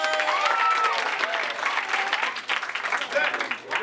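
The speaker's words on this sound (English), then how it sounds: "Gretchen, for OK Sat, you get a round of applause from the audience" Applause from an improv theater audience, a brief burst of clapping close by with a few cheers and voices mixed in.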